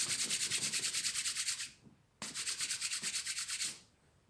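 Wooden sticks rubbed hard against each other to start a fire in Maasai tradition, two long bursts of rapid rhythmic grinding strokes with a short pause between, close and loud.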